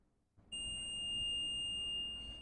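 A multimeter in continuity mode, probes on a MacBook Pro A1990 logic board, gives a steady high-pitched tone that starts abruptly and holds unbroken, close and clear over faint room hiss.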